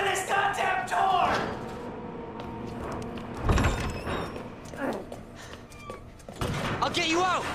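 A door being forced open in the video game Resident Evil 2: mechanical thuds, creaks and sliding clunks sound through a tense scene while voices shout over the noise.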